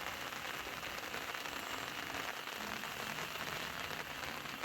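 Heavy rain pours steadily on surfaces during a flood that has nearly reached a house, a dense even hiss that holds without pause throughout, with no voices.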